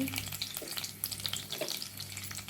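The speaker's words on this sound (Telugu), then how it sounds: "చక్కగా నూనెలో కొంచెం ఆవాలు జీలకర్ర వేసుకొని వెల్లుల్లిపాయ" Mustard seeds, cumin and garlic frying in oil for a broad bean stir-fry tempering, a quiet steady sizzle with fine spitting crackles and light stirring sounds close by, no speech.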